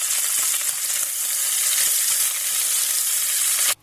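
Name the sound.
lamb browning in butter in a pan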